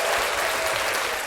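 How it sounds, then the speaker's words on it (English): A studio crowd applauds on a podcast set, dense steady clapping that carries at even loudness through its whole short length, with no talk over it. "You get a round of applause for that one."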